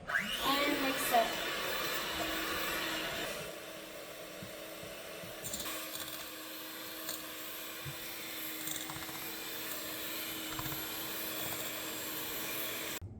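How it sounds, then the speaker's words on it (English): An electric mixer whirs steadily up close as egg yolks and sugar are beaten in a bowl for tiramisu, louder at the start and then settling into an even hum. "Bring your egg yolks and your sugar and mix it."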